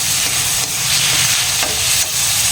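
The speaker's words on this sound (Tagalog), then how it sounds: "So, i-mix lang natin ang mabuti para ma-absorb sa karne ang mga panglasa niya." Meat frying with seasonings in a hot pan while it is being stirred, a steady close sizzle with scraping and stirring rustle throughout, no voices.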